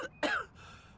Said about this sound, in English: is my sim allergic to flowers because he keeps coughing when he makes them?